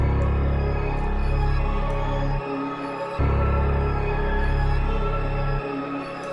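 A dark, looping music sample with deep, heavy bass notes that cut out briefly and return, over a murky, layered backdrop.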